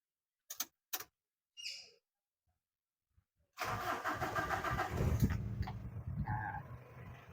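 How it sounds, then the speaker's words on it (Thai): A few faint clicks, then a Ford Ranger 2.5 pickup truck diesel engine cranks after glow-plug preheating and catches, settling into a steady, rough idle close by. "อ่าเดี๋ยวขอสตาร์ทเครื่องนะครับ ฟังเสียงกันดูนิด นึง"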